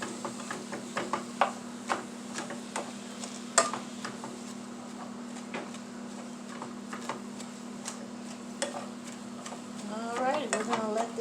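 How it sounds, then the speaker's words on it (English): Hamburger meat and onions sizzle in a skillet, a soft steady frying hiss broken by repeated sharp ticks and scrapes of a utensil stirring, with a busier crackle toward the end. "We're going to let this hamburger meat cook with these onions."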